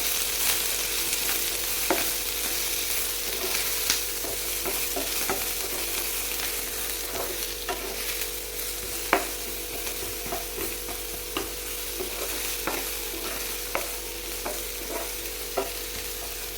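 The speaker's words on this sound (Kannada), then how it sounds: "ಈರುಳ್ಳಿ ಕೂಡ ಅಷ್ಟೇ ಚೆನ್ನಾಗಿ ಫ್ರೈ ಆಗಬೇಕು." Chopped onions fry in a pan for drumstick (nuggekayi) palya, giving a steady sizzle broken by repeated scraping stir clicks; no talking, close and even throughout.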